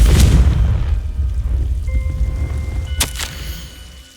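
Confringo fire spell explosion in Hogwarts Legacy, a loud booming blast with rumbling low roar that decays over a few seconds, followed by a sharp crackling burst.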